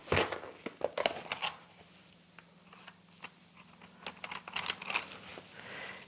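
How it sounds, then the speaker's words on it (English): Colored pencil rubs over silk tissue laid on a texture plate, giving close, scratchy, crinkly strokes in uneven bursts with quieter pauses between them. "I'm basically doing a rubbing"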